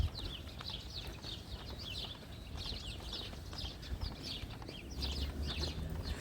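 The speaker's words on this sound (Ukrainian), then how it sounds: "я зараз замовкаю, послухайте трохи пташок" Morning birds chirp and sing in repeated bursts at Lanzheron beach in Odesa, against steady low outdoor rumble, fairly faint and continuous with no talking.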